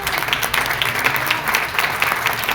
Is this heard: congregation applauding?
yes